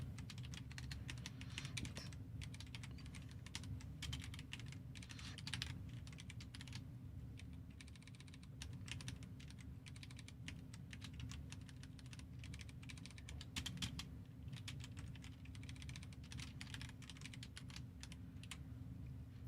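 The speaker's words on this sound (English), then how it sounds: "You could hear me typing a lot more though" Computer keyboard typing during a coding session, quick irregular bursts of key clicks with brief pauses over a faint low hum, fairly quiet and steady.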